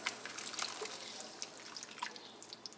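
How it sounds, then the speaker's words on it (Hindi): Water mixed with ground tomato and onion is poured into a cooking pot for dum aloo, making soft, faint dripping and splashing sounds that continue steadily without talk. "इसमें थोड़ा सा वाटर डाल लिया जिसमें टमाटर प्याज जो है ग्राइंड किया था"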